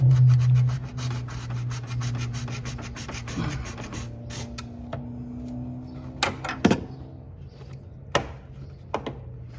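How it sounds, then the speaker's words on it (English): Hand saw cutting during a water pump replacement on a 2003 Chevy Trailblazer, a steady rhythmic rasp of repeated strokes up close that fades after a few seconds, followed by scattered sharp knocks and clatter. "I gotta saw this way."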